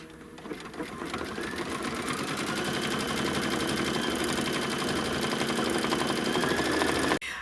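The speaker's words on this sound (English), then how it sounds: "And now we're just going to do the quilting." An embroidery machine quilting a fabric block for a Christmas mistletoe quilt runs in a steady, fast, loud needle clatter for about seven seconds, ending abruptly.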